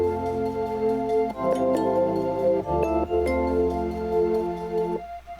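Sustained layered synth pads swell in during the pre-chorus of an electronic track, holding long chords that shift twice before cutting off near the end, with a faint high note hovering above.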